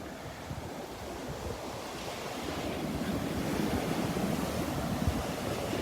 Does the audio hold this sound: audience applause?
no